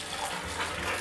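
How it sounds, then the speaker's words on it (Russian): Soaked chickpeas being rinsed under cold running tap water: a steady, close rush of flowing water that fills the whole second, with no talking. "С замоченного нута я сливаю отработанную воду и промою его холодной водичкой"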